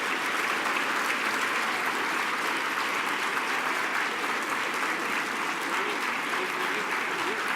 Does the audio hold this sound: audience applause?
yes